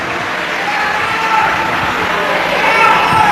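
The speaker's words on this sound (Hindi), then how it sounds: "एक बार इनके लिए जोरदार ताली बजाओ" A large crowd of devotees at a Shiv Mahapuran katha claps loudly and steadily, a dense wash of applause that keeps going for the whole stretch.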